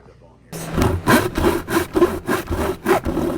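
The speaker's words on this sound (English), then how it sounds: "Just grab the Sawzall and just" A Sawzall reciprocating saw cuts through a car part in a garage. It makes rapid, rhythmic rasping strokes, loud and close, starting abruptly and running steadily for about three seconds.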